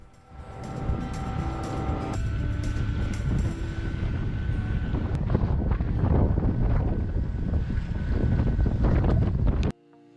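Strong wind roaring across a microphone aboard a sailboat at sea, a steady close buffeting rush with water and hull noise underneath that holds for about ten seconds and then cuts off abruptly.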